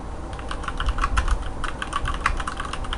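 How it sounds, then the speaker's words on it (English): Typing on a computer keyboard to enter a Google search, a quick run of close, crisp key clicks in uneven bursts over about three seconds. "So I'm gonna type in carpet cleaning Santee in the Google search"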